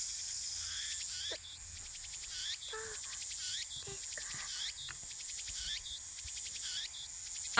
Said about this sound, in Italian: C'era solo il suono delle cicale.